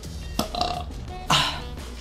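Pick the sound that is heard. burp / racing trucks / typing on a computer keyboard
burp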